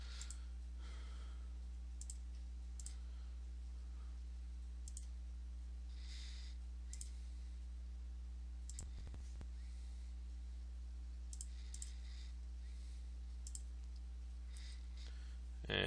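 Mouse clicks while answers are selected in a Google Form quiz: sparse, quiet, sharp clicks spaced irregularly over a steady low hum, with no talking.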